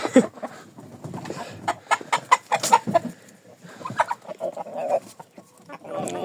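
Silkie chickens cluck and chatter close by in a busy, uneven run of short calls, some louder and sharper than others, in a henhouse in winter.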